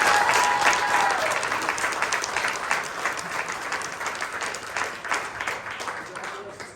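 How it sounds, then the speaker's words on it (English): An audience applauds at a college signing ceremony for student athletes, a steady wash of clapping from a room full of people that slowly fades, close and fairly loud, with a voice briefly heard under it. "So let's give Sam a big round of applause"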